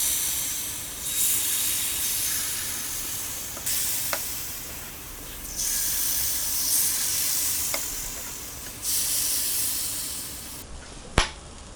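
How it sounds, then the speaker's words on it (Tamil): Sweet appam batter cooking in an oiled paniyaram pan, a soft steady hiss and sizzle that swells in several waves as batter is poured, with a few sharp clicks and a loud tap near the end, no talking. "அப்பம் நம்ம ஊற்றிக்கலாம்."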